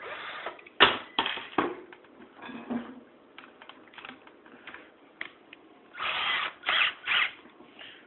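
A power drill whirs in short, intermittent bursts while repairing a chair, starting and stopping several times, with clicks and handling noise between runs and no talking.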